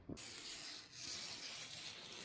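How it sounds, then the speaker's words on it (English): Close, steady rasping and rubbing of scissor blades slicing through a tent footprint sheet, a continuous scratchy hiss with slight swells, no talking. "I'm going to go right in with a pair of scissors and start snipping along that line"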